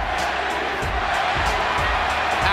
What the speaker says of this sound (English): Pacquiao crowd chanting Manny,